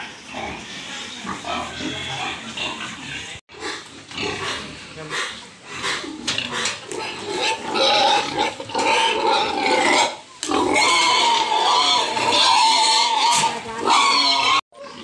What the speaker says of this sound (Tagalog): Itong ating mga baboy. Napakaraming baboy.